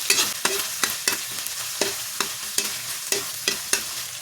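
Scrambled egg with tuna flakes and corn kernels being stirred in a pan, a steady series of sharp scraping strokes roughly every half second over a soft frying sizzle, close and fairly loud with no talk.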